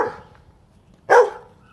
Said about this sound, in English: And now that bark is kind of just wanting me to come back.